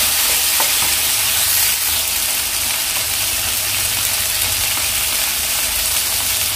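Tomatoes stirred into a chicken chilli fry sizzle steadily in a hot pan, with a continuous, fairly loud frying hiss and occasional scraping stirs throughout, no talking.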